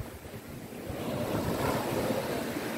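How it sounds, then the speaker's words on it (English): Ocean surf rolls onto the beach at Boston Bay, Jamaica, a steady close wash of breaking waves that swells slightly louder midway, with wind buffeting the microphone and no talking. "This beautiful beach."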